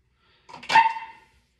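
A single short dog bark indoors, sharp and fairly close, standing alone against near silence.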